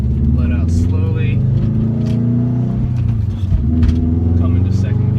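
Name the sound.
Subaru STI engine accelerating in first gear, manual transmission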